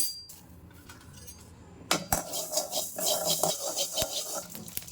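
Fenugreek seeds dry-roasting in a pan without oil: after a quiet start, a metal spoon clinks and scrapes against the pan as the seeds rattle and crackle, close and busy, with sharp knocks punctuating the stirring.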